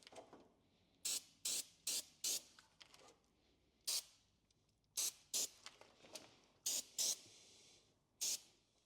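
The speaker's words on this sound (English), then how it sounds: "we're going to blast everything with electronics cleaner because now we have corrosion everywhere" Electronics cleaner sprayed in short, sharp hissing bursts onto corroded Power Stroke truck engine parts, about a dozen close blasts of varying length with quiet gaps between them.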